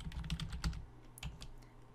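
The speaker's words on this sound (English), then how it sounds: "we can actually type what we want to apply right here" Rapid keystrokes on a computer keyboard while entering a CSS media query in Dreamweaver CC, a quick run of close, crisp clicks that thins out toward the end.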